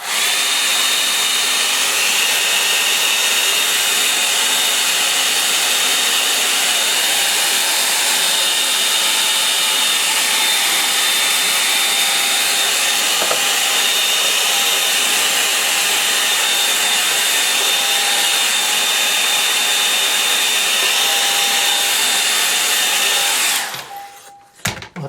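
Hair dryer blowing continuously on a watercolour line and wash sketch, a loud steady whirring rush close to the microphone that runs unbroken before cutting off abruptly at the end.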